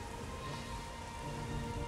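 Rain falling in Metroid Prime Remastered forms a steady, soft, dense hiss of drops with faint low rumble underneath, even and continuous with no voices.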